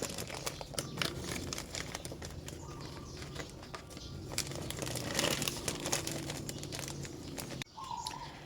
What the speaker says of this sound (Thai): แล้วนำบรรจุใส่ถุงเลยค่ะ